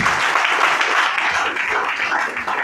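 A church congregation applauding loudly for the Lord during a French-language sermon, sustained dense clapping filling the room throughout.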